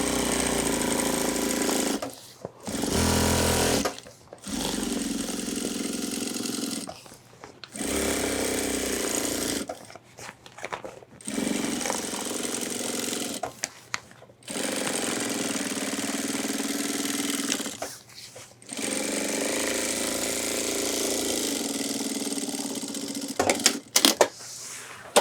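A sewing machine hammers through a reinforcing line of stitches in the seam allowance of an ultralight hiking backpack, running in loud, rapid bursts of several seconds separated by brief pauses, with a final flurry of short stops and starts.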